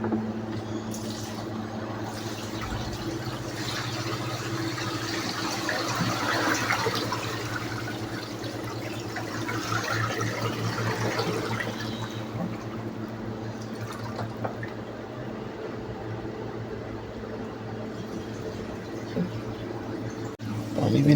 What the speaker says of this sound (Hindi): अब ना इसका पानी निकालना स्टार्ट करना है।